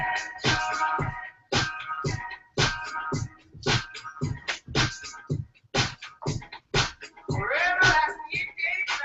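A house cat meowing repeatedly and fairly close, a series of separate drawn-out cries in an irregular rhythm, ending in a longer, wavering yowl.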